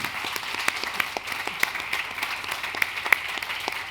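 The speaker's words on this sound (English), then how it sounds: "An applause for Gabriele Muccino, Agata, Serge." An audience at a Milano Design Week talk gives a moderate round of applause, with sharp individual claps standing out over a steady patter and no talk.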